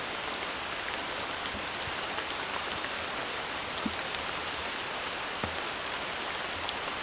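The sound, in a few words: heavy rain in forest at night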